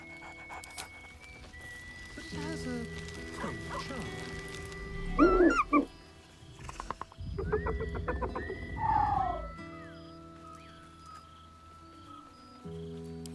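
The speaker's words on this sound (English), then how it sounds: "Scratch barks merrily in something like agreement." Scratch the dog in Baldur's Gate 3 gives short excited yelps and panting barks in a couple of bursts over soft game music.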